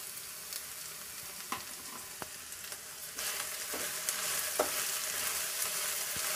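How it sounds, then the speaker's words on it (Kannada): Brinjal palya fries in a pan as salt is stirred in, a steady soft sizzle broken by occasional clicks and scrapes of a spoon, close and fairly quiet. "ಉಪ್ಪು ಹಾಕಿ ಮಿಕ್ಸ್ ಮಾಡಿದ್ದೀನಿ."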